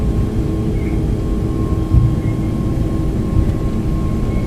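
Airbus A321neo engines spooling at takeoff thrust in a flight simulator, a steady loud low rumble with a faint constant whine above it, no talk.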